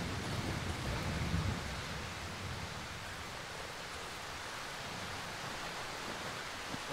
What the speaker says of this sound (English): If only it didn't start raining.